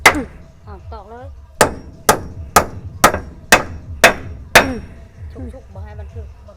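Nails being driven into wood with a hammer during Lao house construction: about eight sharp, evenly spaced strikes, close and loud, with brief voices talking before and after.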